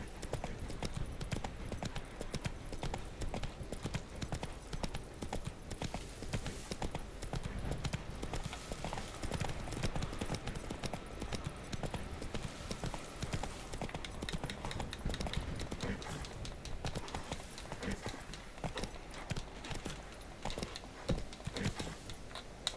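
Roach, the horse in The Witcher 3: Wild Hunt, gallops with a rapid, steady clip-clop of hooves that runs continuously and evenly throughout, close and moderately loud.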